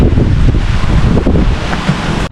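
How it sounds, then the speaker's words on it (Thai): Strong summer storm wind roars across a mountain campsite at Khao Kho, Thailand, buffeting the microphone with loud continuous rushing gusts and no talk. "ตอนนี้พายุเข้า มาก หนักมากเลยทุกคน"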